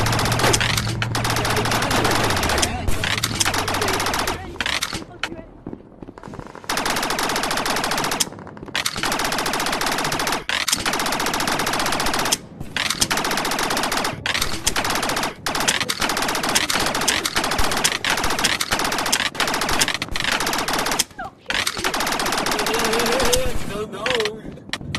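Sustained bursts of automatic gunfire in the Rec Room VR game, played on a Pico 4 headset, with rapid repeated shots in long volleys broken by brief pauses, loud and close, with players talking over parts of it.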